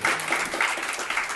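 An audience at a Swami Vivekananda birth anniversary function at Anna University claps to welcome the vice-chancellor to the stage, a full, close wash of applause with faint clap accents sustained throughout.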